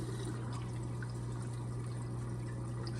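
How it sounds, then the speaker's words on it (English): Water pours steadily into the plumbing of a 125-gallon reef tank, a faint continuous splashing rush over a constant low pump hum, with no talking. "So that sound of water just pouring in is what I would be hearing if this piece wasn't on."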